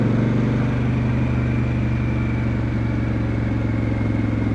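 A motorcycle engine runs loud and close with a steady, throbbing drone and holds a fairly even pitch throughout.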